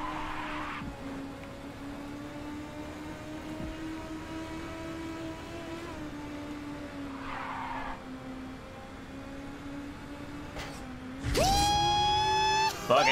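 Race car in the video game Ridge Racer 6 running with nitrous, a sustained engine drone with brief skidding bursts and a loud rising tire squeal and engine surge near the end, no talking.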